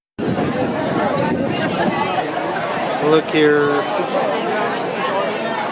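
Dense crowd chatter fills the Rose and Crown pub at Epcot, a steady hubbub of many overlapping voices from a busy drinking crowd, with one nearby voice briefly speaking over it.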